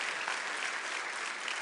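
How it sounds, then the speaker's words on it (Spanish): A church congregation applauding, a dense, even burst of clapping that stays steady for a short moment, fairly close and with no talk over it. "denle un aplauso a nuestro nuevo camarógrafo"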